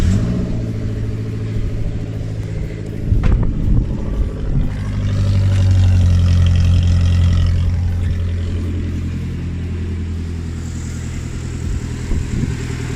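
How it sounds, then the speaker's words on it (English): A Suzuki Jimny engine, after a radiator replacement, idles nearby with a steady low rumble, briefly swelling in pitch as it revs a little, then settling back to a smooth run. "So the engine's been running for about 10 minutes."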